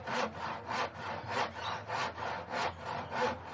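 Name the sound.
handsaw cutting mahogany wood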